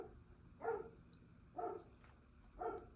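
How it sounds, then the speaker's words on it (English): A pet dog barks indoors in a small home, three single woofs spaced about a second apart, moderately loud against a quiet room. "my dog's gonna keep barking"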